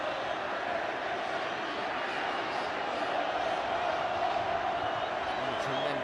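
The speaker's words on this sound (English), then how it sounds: "It certainly got the crowd going" A large stadium crowd roars continuously at a Copa America 2015 football match between Ecuador and Bolivia, a broad sustained wall of cheering heard from a distance without pause.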